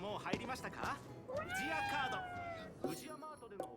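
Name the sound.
cat meowing in the video game Ghostwire: Tokyo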